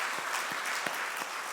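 A church congregation claps together during a Sunday Advent worship service to welcome a family, steady dense applause filling the room with no talking.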